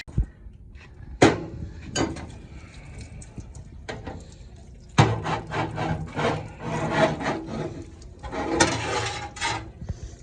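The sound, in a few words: running a bar through rocker arm shafts to clean them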